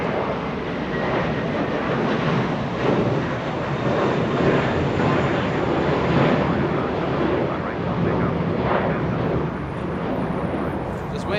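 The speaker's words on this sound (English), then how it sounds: "Just waiting for that departure to pass." An airliner departs Los Angeles International Airport, its engine roar a steady broadband rumble that stays loud and constant throughout.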